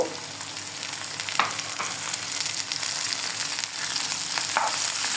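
Fish and chopped onion fry in hot oil, a continuous loud sizzle broken by occasional sharper crackles and the scrape of stirring.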